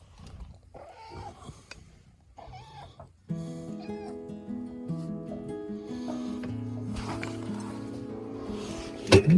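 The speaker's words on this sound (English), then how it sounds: "Sweet kitties, barn cats." Barn cats on a farm meow in short, close calls at the start, then a steady musical tone with a hum runs under them for the rest of the stretch.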